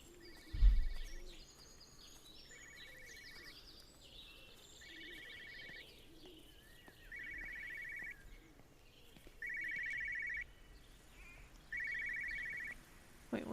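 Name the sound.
telephone ringing in the video game Everybody's Gone to the Rapture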